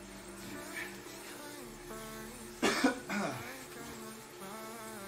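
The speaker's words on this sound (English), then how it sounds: "Like a little bit of that cough from last week." A single cough, short, rough and close, bursts out over a steady background hum during an indoor Zwift cycling time trial, then fades.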